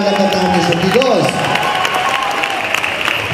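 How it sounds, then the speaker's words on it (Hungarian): Audience applauding dancers at a dance competition results ceremony, a thick burst of clapping that swells and holds steady, with a voice speaking over it at the start. "azért egy nagy tapsot megérdemelnek a táncosok, igaz?"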